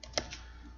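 Quick keystrokes on a computer keyboard, a couple of light close clicks with one sharper tap standing out, heard alone with no talking.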